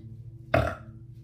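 One short, close burp erupts briefly over a low, steady background hum.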